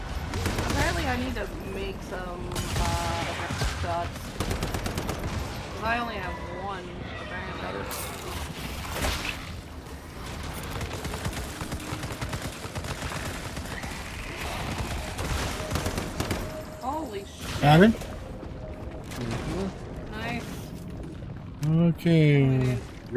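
Video game gunfire in a chaotic firefight, bursts of rapid automatic shots and scattered single cracks, close and loud, running through almost constantly while players talk over it.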